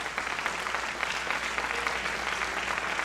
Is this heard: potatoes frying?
no